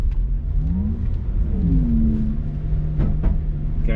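A 750 hp Porsche Taycan Turbo S electric car cruising at about 25 mph on a track at the Porsche Experience Center LA gives a steady close rumble with a rising and falling whine and a couple of brief knocks near the end.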